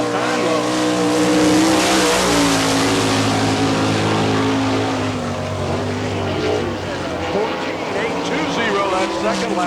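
A winged sprint race car in the All Star Circuit of Champions, car number 88 with a Gertie-built engine, laps the dirt track at Barberville, Florida during Speedweek. A loud, sustained engine roar swells and holds steady throughout.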